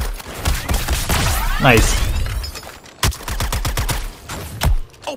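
Weapons fire in Suicide Squad Kill the Justice League on PS5 erupts in a dense volley of rapid shots, dropping away and returning in sharper bursts, with voices speaking over the combat.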